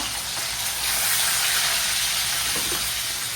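Shallots and dried red chillies sizzle in hot oil with popped mustard seeds, a steady close hiss and crackle running unbroken throughout with no talking.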